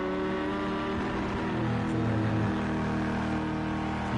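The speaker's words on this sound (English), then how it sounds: "We can hear Rob downshifting. It's very aggressive, that Ford" A Ford prototype race car downshifting aggressively at Daytona in a racing game, its engine note dropping and rising in steady droning harmonics, loud and unbroken without voices.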